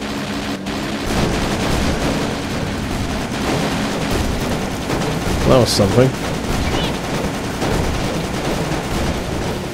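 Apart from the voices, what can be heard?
machine cannon firing in the video game Death Skid Marks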